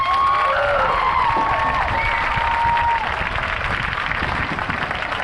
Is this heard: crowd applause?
yes